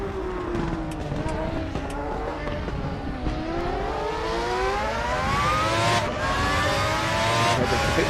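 FR X-90 race cars at Monza in a sim racing game, engines screaming and climbing through rising gear sweeps, with one dropping pitch under braking, loud and continuous, while a commentator talks over the racing.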